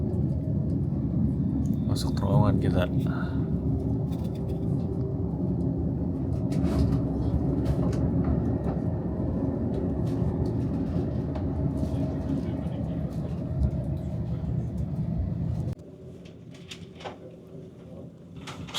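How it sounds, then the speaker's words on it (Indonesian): A train rolls slowly through a tunnel on a winding line, a steady enclosed rumble with faint clanks and squeals, then suddenly quieter near the end; a person talks over it. "kereta melaju pelan banget nih"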